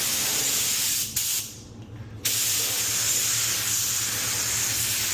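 Spray gun laying a quick coat of clear coat over primer on a car hood, a loud close steady hiss that cuts out briefly for about a second before resuming continuously.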